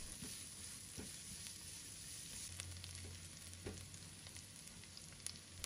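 Minced garlic and scallion whites stir-frying in a thin layer of hot oil in a wok, a soft steady sizzle with occasional scrape and clink of the spatula, fairly quiet and without voices.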